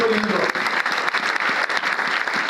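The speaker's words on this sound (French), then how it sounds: "Monsieur et dames, je vous prie d'applaudir bien chaleureusement." Audience applause at a book presentation event, a dense, steady burst of clapping from a crowd that continues throughout, with a brief voice at the very start.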